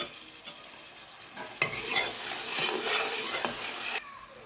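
Ginger, green chili and garlic paste dropped onto frying onions for a roasted-coconut chicken curry, bursting into a loud close sizzle with stirring that swells for a couple of seconds, then cuts off abruptly.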